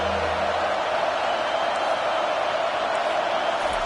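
Stadium crowd at a football game on a big third down, a steady broad roar of cheering that stays loud and even throughout with no break.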